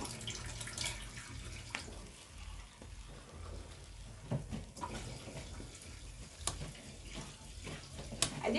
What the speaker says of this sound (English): So I'm going to add my little cold water to it.